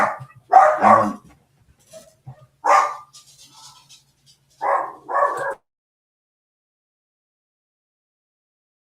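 A dog barks in a few short bursts, loud and close, with a couple of quiet gaps between them and a brief spoken interjection in the middle.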